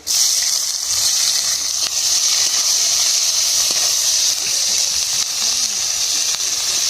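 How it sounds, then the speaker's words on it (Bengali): Bay leaf and dried red chilli tempering in hot oil in a kadai, a steady close hiss and sizzle that holds evenly from start to end, with no voices over it. "কড়াই তেল দিয়ে দেবো, তেজপাতা ফোড়ন করবো, শুকনো লঙ্কা ফোড়নে দেবো"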